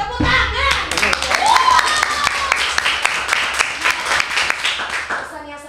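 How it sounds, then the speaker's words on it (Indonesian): Audience at a school Independence Day event clapping hands in a lively burst of sharp, overlapping claps, with children's voices and a few whistles mixed in before it thins out. "Tepuk tangan"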